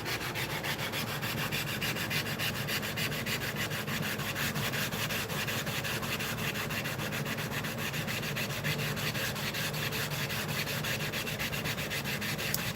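Steady, continuous rasping of 150-grit sandpaper rubbed over a guitar fretboard being planed, a close, even scratchy hiss that holds at one level with no pauses or voices.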